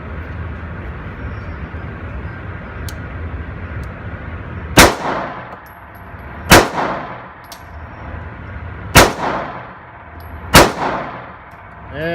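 Four sharp gunshots from a Colt Defender pistol at an outdoor range, evenly spaced about two seconds apart, each a loud crack with a ringing tail, heard alone without talk.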